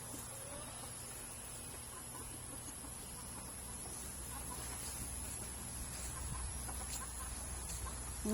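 Chickens cluck softly at a distance in a quiet rural yard under a constant low background hiss, with scattered faint calls rather than any loud crowing.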